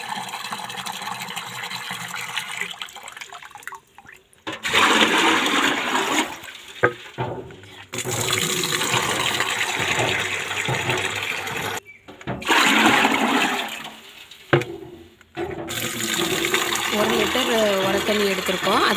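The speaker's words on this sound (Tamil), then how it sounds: "15 லிட்டர் தண்ணி எடுத்துக்கிறோம்." Water poured into a bucket to mix organic fertilizer for a home garden, heard as loud rushing, splashing bursts separated by brief pauses. A voice speaks at times in between.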